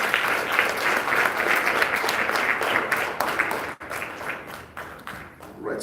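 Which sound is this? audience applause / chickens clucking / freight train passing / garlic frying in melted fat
audience applause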